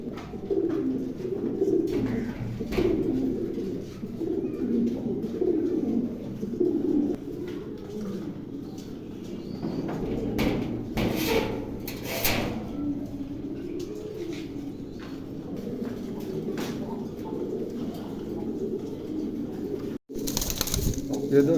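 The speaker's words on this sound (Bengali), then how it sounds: "8 খিল পড়া কবুতর, 2টা ফিমেল, একটা মেল আছে।" Fancy pigeons, two females and a male among them, coo softly and repeatedly in a steady low murmur throughout, with occasional rustles and a few faint chirps.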